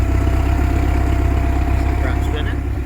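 A restored boat engine running in forward gear gives a steady, loud, low idling drone with a constant throb and no change in pace.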